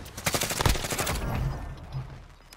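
Rapid gunfire from the Warzone video game, dense bursts of close shots firing in quick automatic succession, loud and continuous for a couple of seconds before tapering off.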